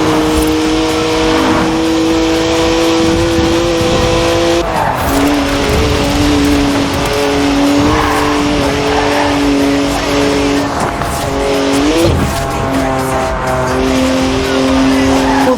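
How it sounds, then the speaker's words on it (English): BMW 1M with a 3-litre twin-turbo straight six in Forza Horizon 4, engine droning and shifting pitch steadily while tires squeal and skid through sideways drifts, loud and continuous throughout. "3-litre straight six, 335 horsepower, 2 turbos, as much sideways action as you like"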